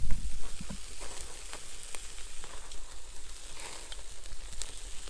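Bacon and Turkish bread toasting on a grill over an outdoor campfire, cheese melting on the bacon, giving a steady close sizzle and fry with small crackles throughout, no talking.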